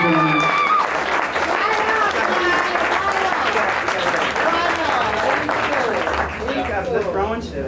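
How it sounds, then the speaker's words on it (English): An audience claps and cheers loudly and without letup at a comedy show, dense applause filling the room while a voice is heard over the crowd. "Give them a big applause, ladies and gentlemen."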